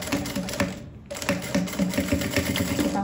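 A sewing machine stitches a zipper onto a puffer bag, running in a steady, rapid mechanical rattle of needle strokes, close and loud, with a brief pause before the stitching resumes.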